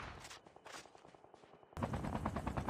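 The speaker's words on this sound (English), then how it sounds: "and then there's, like, shots down there" Gunshots in the video game Call of Duty Mobile: rapid automatic fire, faint at first, then louder and denser in the final second, with no talk.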